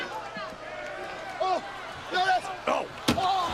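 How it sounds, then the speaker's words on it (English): At a WWE Raw wrestling event, a wrestler's head is slammed into the announce desk, producing several sharp, heavy impacts amid arena crowd noise and commentators talking. "Slamming his head into our announce desk."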